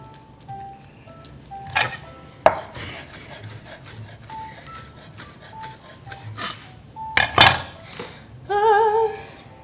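A knife chops spinach on a cutting board, landing in a handful of irregular, fairly close thuds and scrapes over soft tonal background sounds, with a busier burst of cuts toward the end.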